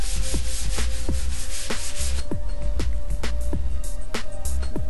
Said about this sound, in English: We used the foam coat over the foam, sanded the foam coat